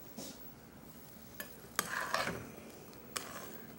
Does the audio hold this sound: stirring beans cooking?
yes